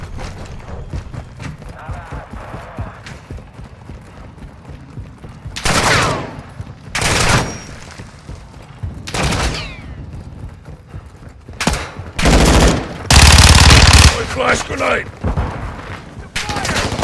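Call of Duty gunfire: several loud bursts of rapid shots in close succession, separated by quieter stretches of background battle noise and faint radio chatter.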